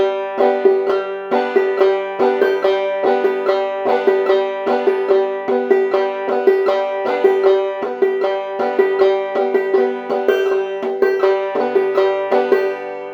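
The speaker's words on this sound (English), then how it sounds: "I'd have a pluck on claw, sort of a strum downward with maybe these first three fingernails" Steady, rhythmic banjo playing, bright plucked notes alternating with downward brushed strums in a repeating clawhammer pattern, close and clear with no talking.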